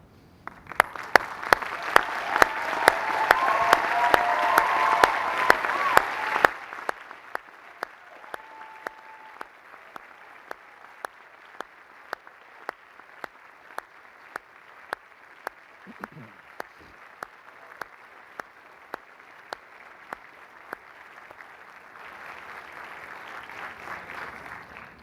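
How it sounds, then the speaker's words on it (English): Graduates at a UMass commencement ceremony give a hearty round of applause. A loud, dense burst of clapping fills a large space, then drops away abruptly to a quiet room with sharp regular ticks, before a fainter swell of clapping returns at the end. "hearty round of applause."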